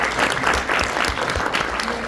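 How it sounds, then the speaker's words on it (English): A conference audience gives a round of applause to speakers Sue and Francis, brisk, fairly close clapping lasting about two seconds. "All right, another round of applause for Sue and Francis."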